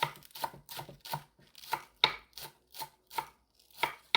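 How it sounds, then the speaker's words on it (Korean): Knife chopping spring onions on a cutting board, a steady series of about a dozen crisp, close taps in an even rhythm, with no talking. "봄파 30g 정도 이렇게 씻어서 송송 썰어 줄게요"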